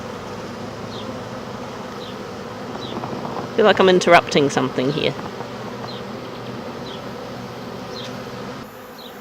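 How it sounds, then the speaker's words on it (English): Honey bees buzz steadily around an open beehive during beekeeping work, a close, continuous drone with individual bees flying past, while someone talks briefly in the middle. "Got bees on my hands"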